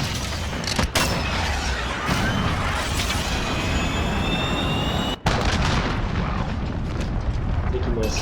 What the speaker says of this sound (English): Here comes the cruise missile by Kip.